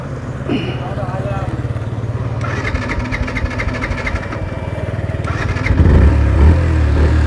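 A three-year-old Yamaha FZX motorcycle engine runs after restarting, settling into a steady, throbbing idle with a brief louder rev near the end, while a voice talks faintly over it.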